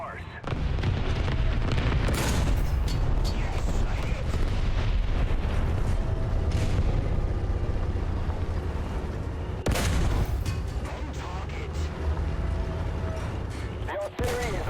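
Artillery fire in the War Thunder video game, heard as dense, loud booms and rumbling blasts that crowd a continuous wall of battle noise, with heavy low impacts throughout.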